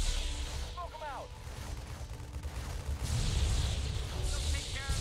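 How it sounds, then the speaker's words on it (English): Gunfire and booming blasts rumble through a Halo Wars battle, with a few bursts of rapid shots over a continuous low roar, and voices talk over the sound. "Let's take care of this gunfire."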